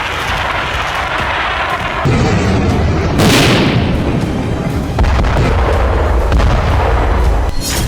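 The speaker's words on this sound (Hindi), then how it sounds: "बैटल ग्राउंड से मल्टी बैरल रॉकेट लॉन्चर से बेहिसाब" A multi-barrel rocket launcher fires on a battlefield, loud successive booming launches and roaring blasts overlapping one another with no talk.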